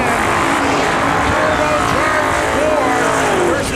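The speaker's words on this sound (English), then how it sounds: "Tom Bailey in the turbocharged big block Chevrolet 69 Camaro versus none other than Wild Bill Divine" Turbocharged drag race cars, a big block 1969 Chevrolet Camaro against a turbocharged Ford Mustang, roar continuously and loudly at a dragway through the whole stretch, with an announcer talking over them.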